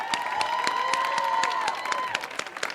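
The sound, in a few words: audience applause for next poet coming to stage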